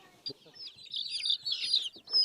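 Young chicks peep in a quick, high-pitched chorus close by, with soft voices murmuring faintly in the background.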